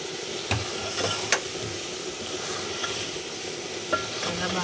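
Country chicken gravy curry being stirred in a pan, a soft steady scraping with a few sharp spoon knocks against the metal and a faint sizzle underneath, no voices.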